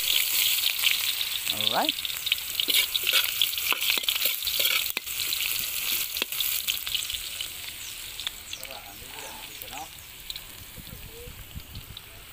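Onions sautéing in a hot pan give a continuous close sizzle with scattered spoon clicks and scrapes, while someone speaks briefly over it.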